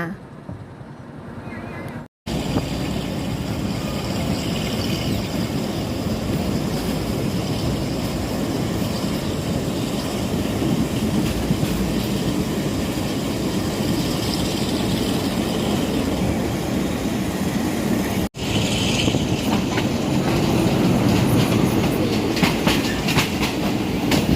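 A train rumbles past close by in Thailand near Yommarat junction, loud and sustained, with rhythmic clacking of wheels over the rails and a steady roar throughout.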